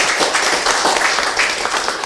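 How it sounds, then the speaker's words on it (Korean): Applause at a party founding anniversary event, dense steady clapping from a crowd filling the room, loud and continuous with no voices on top. "자, 박수 한번 보내주십시오."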